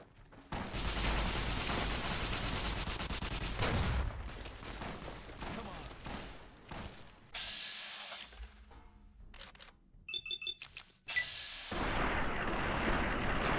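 Laser RCW gunfire in the Fallout New Vegas video game, loud dense bursts of rapid energy-weapon fire with gaps and crackling effects between volleys, close and continuous through most of the stretch.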